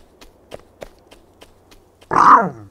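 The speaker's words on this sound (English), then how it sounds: "Dog noises." A dog in the video game Octopath Traveler lets out one short, gruff bark or growl after a string of soft, evenly spaced footsteps, loud and close against a quiet background.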